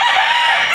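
A rooster crows close and loud in one short, sustained held note that cuts off abruptly, with nothing else audible.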